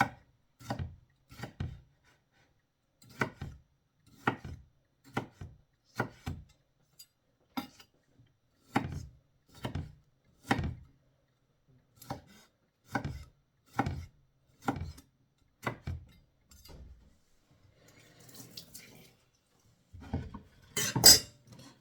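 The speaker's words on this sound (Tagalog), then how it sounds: "hiwain lang po natin na maliliit" A knife chopping ingredients into small pieces on a board, a steady series of sharp, close knocks in short bursts separated by brief pauses.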